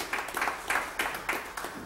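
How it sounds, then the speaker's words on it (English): A church congregation at a Baptist Sunday morning service claps in praise, about six rhythmic bursts of group clapping spaced through the moment, moderately loud and fairly close, with no talking over it. "give God a hand clap of praise this morning if you believe that"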